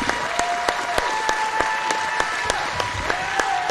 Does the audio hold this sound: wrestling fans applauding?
yes